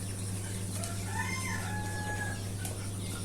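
Free-range desi chickens being let out in a rural yard cluck softly and fairly distantly, with a few higher bird calls over a steady low background hum.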